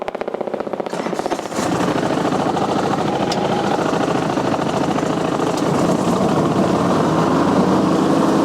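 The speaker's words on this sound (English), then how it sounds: "that chopper keeps on flying over" A helicopter flies overhead, a loud continuous rotor and engine roar that swells in after a quieter start and holds steady, thick and close, with no voices.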